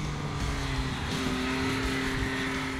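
A 2024 Yamaha MT-09 motorcycle engine drones steadily with a constant low hum and broadband road and wind rush, sounding like a ride at steady speed, loud and unbroken throughout.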